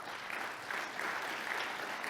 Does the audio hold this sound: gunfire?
no